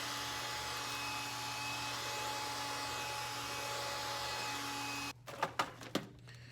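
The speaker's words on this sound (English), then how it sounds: "I was vacuuming something up" A household vacuum cleaner runs as a steady, loud, close whine with a constant hum for about five seconds, then cuts off, leaving a few sharp knocks and clatters.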